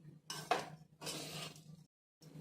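A spoon scrapes and clinks in a pan while spices are stirred and roasted over a low flame, two short bursts of stirring close up with a brief pause.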